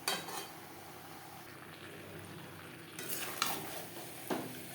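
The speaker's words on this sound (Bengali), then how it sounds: "মশলার সাথে সবজি বেশ ভালো করে মিক্সড করে দেব" A spoon scrapes and clinks against a pan as potato, pointed gourd and soybean vegetables are stirred with spices. The quiet stirring runs steadily, with a few sharper clinks near the end.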